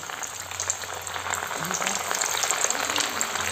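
Steady sizzling and crackling of masala-coated fish pieces frying in hot oil on a flat tawa, continuous and fairly loud throughout.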